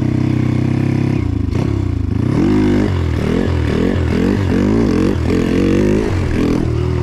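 A motorcycle engine revs loud and close as the rider shifts up into second gear while wheelie riding, the pitch climbing and dropping in repeated surges with a clack from the gearbox. Continuous engine drone throughout, no talk.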